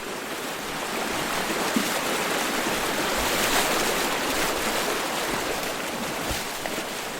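A fast young glacial stream at Rush Point Creek in Glacier Bay roars with broken waves, a steady dense rushing wash that stays loud and unbroken throughout.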